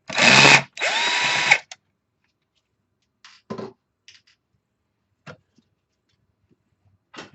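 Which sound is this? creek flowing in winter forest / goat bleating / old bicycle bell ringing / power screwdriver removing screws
power screwdriver removing screws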